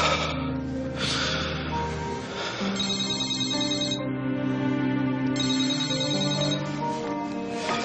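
A phone rings with an incoming call, a steady repeating electronic ringtone pattern lasting several seconds, accompanied by a person's quiet breathing and a gasp close by.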